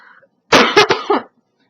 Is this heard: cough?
yes